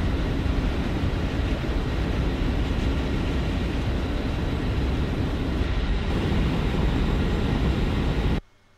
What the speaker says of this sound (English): my plane is really shaking at Mach 1